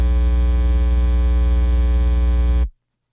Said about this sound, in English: It's just a 60 cycle hum.